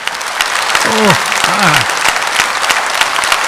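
A large audience claps continuously at a Tamil stage debate show in Connecticut, a dense, steady wash of applause with a brief voice sounding faintly under it.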